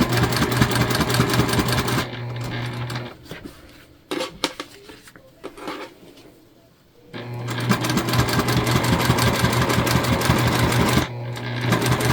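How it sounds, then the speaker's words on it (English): A sewing machine stitches together the short ends of a faux leather scrunchie with a quarter-inch seam, running in a loud steady whir, pausing briefly for a few clicks and handling noises, then running again. "we're gonna sew our short ends together here"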